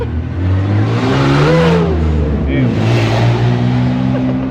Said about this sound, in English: It's always some broke ass car.